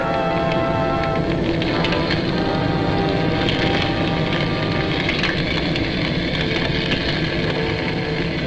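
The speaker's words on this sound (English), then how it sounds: "Cathedral crashed in flames." A burning cathedral crashes in flames during a wartime invasion in 1942 newsreel footage, heard as a loud, dense, continuous roar of crackling and splintering with no voices.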